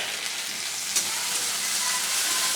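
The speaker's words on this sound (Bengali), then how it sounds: "হালকা করে ভেজে দেবো। এরই সাথে দিয়ে দেবো আমি 3টে কাঁচা লঙ্কা চেরা।" Three slit green chillies frying lightly in hot oil, giving a steady, close sizzling hiss throughout with a single brief stir sound near the start and no voices.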